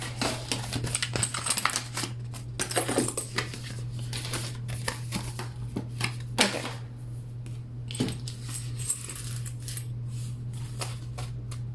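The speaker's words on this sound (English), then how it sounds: "I'm gonna take all of my money out of my envelopes" Paper bills and envelopes rustling and shuffling as money is pulled out of budget envelopes, with crisp intermittent crinkles and flicks over a steady low hum, close and fairly quiet.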